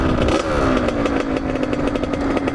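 A motorcycle that had been hard to start and needed a push start, its engine idling loud and close with a steady throbbing rumble and a slight rev at the start.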